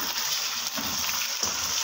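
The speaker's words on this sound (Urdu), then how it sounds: "اب یہ چکن جو ہم نے دھویا ہوا ہے اس کو اب اس میں ایڈ کر کے بھونیں گے" Washed chicken sizzles steadily in hot oil with browned onions, a constant close hiss with faint stirring.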